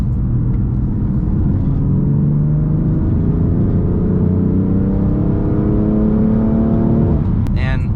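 A BMW M3 that had been flooded and revived pulls hard in fourth gear from about 2,000 RPM, a loud, steady engine drone rising smoothly in pitch for several seconds before easing off near the end.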